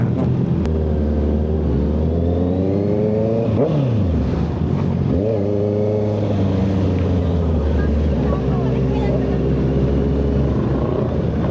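A group of motorcycles on a ride-out, including a Harley and adventure bikes, streams past close by. Engine notes rise and sweep as each bike passes, over a continuous loud drone of traffic.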